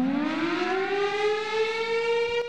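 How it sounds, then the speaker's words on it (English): A rising, sustained civil-defense style siren wails loud and alone, its pitch climbing steadily as a single continuous tone throughout. "sound the bear siren"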